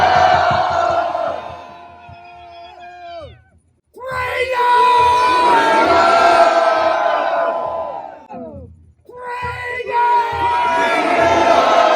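At a Druid winter solstice celebration at Stonehenge, a single voice draws out a long shouted call. A crowd then answers twice with loud, sustained unison shouts, separated by a brief pause.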